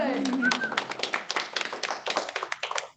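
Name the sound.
audience applause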